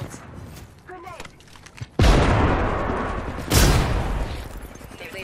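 Grenade blasts in the Apex Legends battle royale game, with two loud booms a couple of seconds apart, each fading into a long rumbling tail over faint game noise.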